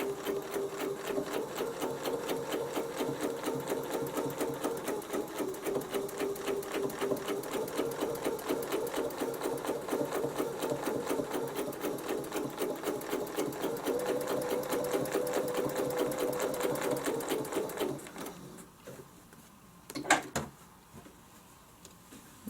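A sewing machine stitches a snowflake design along a Westalee template, running steadily and fast with dense rhythmic needle clatter for about eighteen seconds before stopping, followed by a few faint handling knocks.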